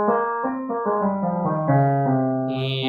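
A melodic line of sustained notes steps through the dark, exotic-sounding Phrygian mode, each tone ringing into the next, ending with a brighter high shimmer.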